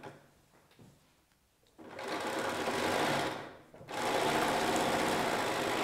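A sewing machine quilts an improv cushion at stitch length 4, running in two long steady bursts after a quiet start, loud and close with a brief pause between runs.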